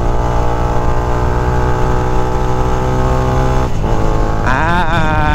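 A motorcycle engine holding a steady, loud drone as it upshifts into fifth gear, with a brief dip in revs before the pitch climbs again, close and alone.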